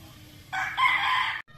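A gamefowl rooster with a straight comb, a sweater-line bird, gives one loud, near crow lasting about a second, with a rising middle and an abrupt stop. No one speaks over it.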